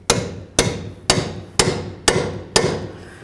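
A hammer striking a chisel to free the front strut and spring assembly on a 2008-13 Mazda 3, six evenly spaced, loud, sharp metallic blows with ringing decay, close by and with no talking.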